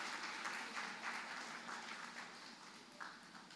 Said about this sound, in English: can I please have a hearty round of applause for the trainees in their absence?